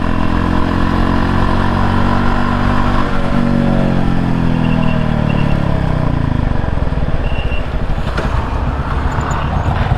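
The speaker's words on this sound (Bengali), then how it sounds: "বাইকের নয়েজে কতটুকু আপনারা আমার ভয়েস শুনতে পারবেন। বাইকের এক্সস্টটা এতই জোস" A motorcycle engine and exhaust roar loud and close while riding, a continuous throaty drone that shifts in pitch as speed changes, filling the whole stretch.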